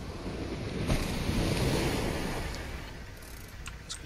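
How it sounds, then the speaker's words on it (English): Ocean waves beside a road in the driving game Jalopy, a continuous broad roar of surf and wind that swells in the middle and eases slightly, with no voices. "Next to this noisy ass ocean."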